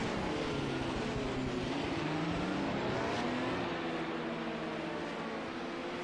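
Porsche and Audi prototype race cars in a racing video game at Hockenheimring: a steady, dense engine drone holds throughout with shifting tonal whine, moderately loud and continuous, with no talk over it.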